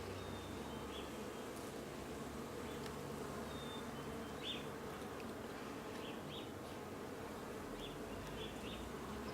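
Honeybees building wax comb inside a hive during a spring inspection, a steady dense buzzing drone throughout with occasional louder individual bees passing close, no talking.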